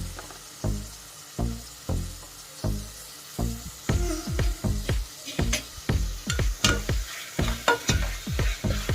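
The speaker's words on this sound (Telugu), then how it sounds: "టమోటాస్ కూడా బాగా ఫ్రై అయిపోయినాయండి." Tomatoes and masala frying in a pressure cooker, stirred in a steady rhythm of scraping strokes over a soft sizzle, close and clear, with no voices.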